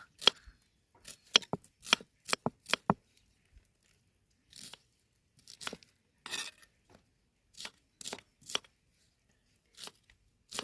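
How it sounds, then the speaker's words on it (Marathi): Onion being cut on a flat stone outdoors, quick sharp chops in short bursts with pauses between, close and crisp. "त्याच्यावरती कापणार आहे कांदा"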